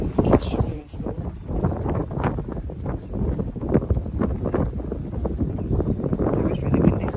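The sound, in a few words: strong wind blowing into the microphone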